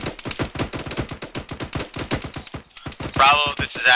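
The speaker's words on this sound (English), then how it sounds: "Heavy machine gun fire, possible vehicle." Heavy machine gun fire crackles in a fast, steady stream of close, loud bursts during a military field training exercise at a crash-site recovery. It ends in a brief hissing surge.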